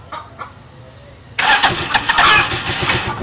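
A Rusi Chariot175 motorcycle's electric starter cranks briefly and the engine catches with one click into a loud, close, steady idle after a quiet start, no talking.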